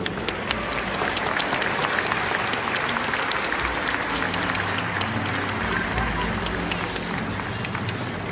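Spectators at a dolphin show featuring bottlenose dolphins applaud in a steady, dense, continuous clatter that holds at an even level throughout, with faint crowd murmur underneath.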